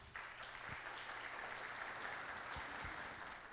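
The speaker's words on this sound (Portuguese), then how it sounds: "Uma salva de palmas." Audience applause at an award ceremony honouring an executive at a Six Sigma congress, a steady wash of many hands clapping at a moderate, slightly distant level throughout.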